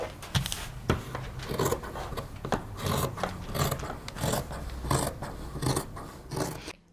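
Scissors or shears cutting fabric for the back panel of a dolman-sleeve coat, a steady run of close crisp snips and rasping scrapes with small irregular clicks throughout, no talking.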